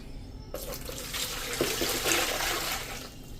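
Warm water with dissolved alum is poured into a tub, a steady splashing pour that starts abruptly after a brief quiet moment and runs on alone, fairly close, with no talking.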